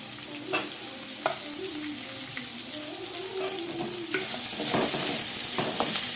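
Small shallots sauté in hot oil for a mushroom gravy: a steady sizzle, with occasional sharp clicks as a spoon stirs the pan, growing a little louder near the end.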